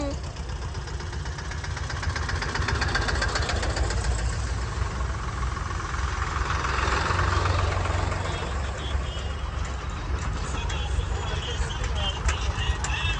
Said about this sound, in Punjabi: ਆਪਣੇ ਨਾਲ ਟਰੈਕਟਰ ਛੇੜ ਲੈ